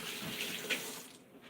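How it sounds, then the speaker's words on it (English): Running tap water in a kitchen sink splashes steadily as hands are washed, a close, soft rushing stream lasting a moment. "wash my hands again."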